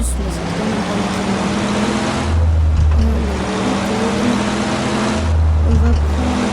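A bus driving in a bus simulator video game: a steady engine drone with low rumbling swells as it accelerates, heard under ongoing talk.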